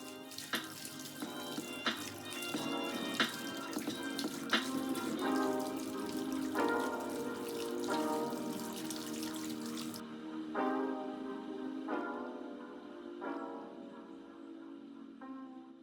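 Tap water running over hair as relaxer is rinsed out at a sink, a steady splashing flow broken by hand movements, with quiet background music, louder early and thinner later.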